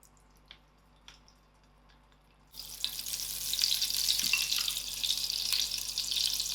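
Oil and margarine heating in a pan, quiet at first with a few small drips and taps, then a sudden steady sizzle that rises and stays moderately loud and close.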